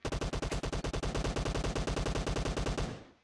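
Rapid automatic gunfire from a PUBG Mobile team deathmatch, a loud, steady burst of evenly spaced shots lasting about three seconds before cutting off with a short tail.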